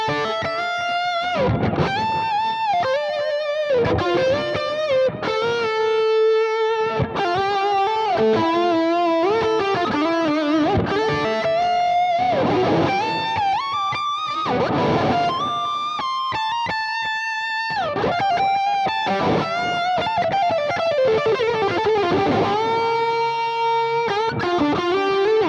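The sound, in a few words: electric guitar through Mesa Boogie Lone Star amp reverb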